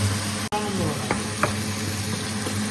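Meat stir-frying in red curry paste in a pan for restaurant-style Chinese noodles, with a steady close sizzle, a sharp utensil knock near the start and a few light scraping stirs.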